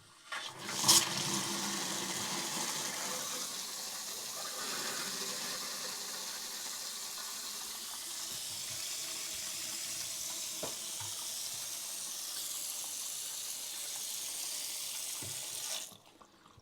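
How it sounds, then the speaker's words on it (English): A bathroom faucet runs after a stem replacement, a steady close hiss of flowing water that starts abruptly and stops near the end. "So turn the water on and see if we have any leaks."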